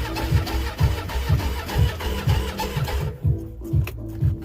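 Boat engine cranked with the key on a cold day: a rhythmic starter chug repeats steadily, briefly cuts out, then resumes cranking, close and fairly loud.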